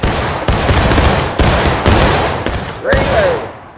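An infantry line fires a musket volley in the War of Rights Civil War game, producing a rapid ragged series of loud, close shots in overlapping bursts, with a shouted voice near the end.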